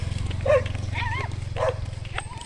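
A dog barks and yelps about four times in quick succession, each call close and fairly loud, over a steady low droning hum.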